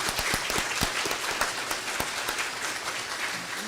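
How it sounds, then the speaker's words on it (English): An audience at a county sheriff debate claps for the candidates and panelists, a steady, fairly loud burst of applause with distinct individual claps, continuing evenly without voices. "Let's give them another round of applause."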